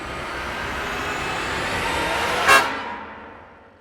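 Cheap aftermarket horn on a truck blasting once, a loud brassy honk rising out of steady engine and road noise, then cutting off and fading into quiet.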